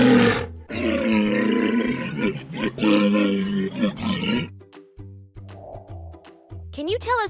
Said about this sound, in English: Correct, it's the walrus.